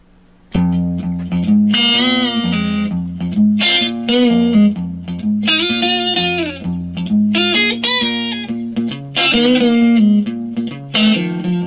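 Electric guitar with distortion plays a solo, a string of short bluesy phrases with bends and sustained notes, loud and up close, no talking.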